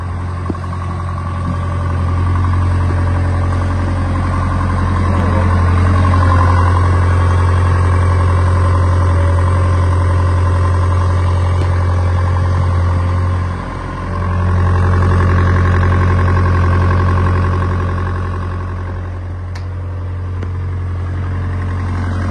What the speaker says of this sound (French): Maintenant que le moteur tourne